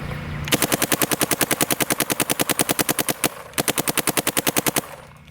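Shocker AMP paintball marker firing rapid bursts in NXL 10.5 mode, a fast, even string of sharp pops, a brief pause, then another rapid string, loud and close with no voices.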